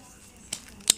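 Scissors cut open a parcel package during an unboxing, giving two quick, crisp snips close to the microphone against a quiet background.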